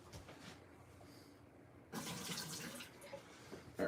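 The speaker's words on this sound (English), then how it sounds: "let me get rid of some of this water real quick." Water is poured out of a gold pan: a quiet, faint backdrop gives way to a sudden, louder splashing pour that continues to the end.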